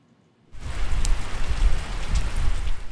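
Rain falls steadily after a brief silence, a dense close hiss of drops hitting surfaces with a few sharper splashes, and no voices are heard.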